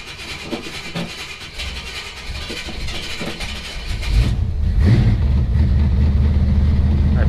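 A large truck engine, a Square Body GMC Jimmy on a cold start, rumbles steadily, its low drone growing louder and heavier partway through and holding at a strong, continuous idle.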